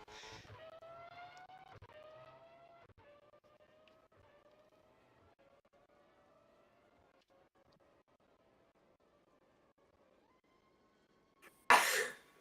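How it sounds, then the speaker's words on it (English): A person coughs loudly near the end, a short harsh burst that follows a long stretch of steady racing-car engine drone from a 2012 European GP Formula 1 game race. "I'm just coughing"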